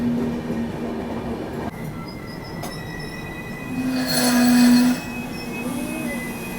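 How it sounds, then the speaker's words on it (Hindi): A passenger express train creeps slowly out of a station after a green signal, wheels squealing on the rails in long sustained tones, one loud screech rising midway, with steady rolling rumble underneath. "अपनी ट्रेन को एकदम ग्रीन सिग्नल मिला है, उसके बाद भी इतना धीमे धीमे निकल रही है यहाँ से।"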